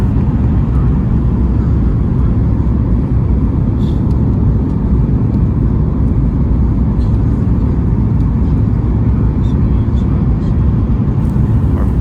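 Airplane cabin noise on descent into Honolulu airport over Oahu, a loud constant low rumble and roar filling the cabin without letup.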